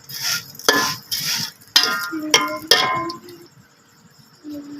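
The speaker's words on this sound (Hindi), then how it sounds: "अब जी इसको अच्छी तरीके से हम लोगों ने भून लेना है।" Vermicelli (sawaiyaan) is roasted in a pan while a spoon stirs it, giving several scraping strokes and sharp metallic clinks against the pan in an irregular rhythm, with quiet gaps between.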